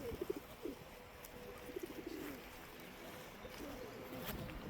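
Pigeons at a pigeon club coo softly in short repeated phrases over a steady outdoor background hiss, heard at moderate distance.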